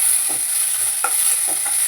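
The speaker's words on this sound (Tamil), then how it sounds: "மிளகு ஜீரகம், பூண்டு, வெங்காயம், காஞ்ச மிளகா இது போட்டு வதக்கணும்" Pepper, cumin, garlic, onion and dried chilli sauté in a pan with a loud, steady hiss, broken by a few soft scrapes of a stirring spoon.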